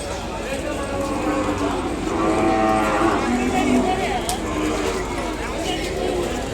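Ongole cattle at a busy outdoor livestock market, with several low drawn-out moos rising over continuous crowd noise and voices talking throughout.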